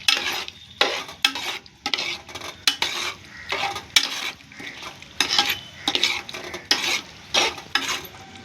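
Mutton being stirred in frying masala for biryani, with repeated scraping and clattering strokes of a spoon against the pot over a steady sizzle, close and fairly loud in a regular rhythm.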